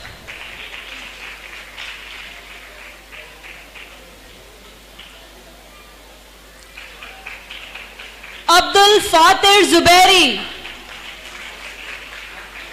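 Audience at a live 14 August show erupts in a short, loud burst of clapping and whooping cheers, following a stretch of an announcer speaking over a quiet hall.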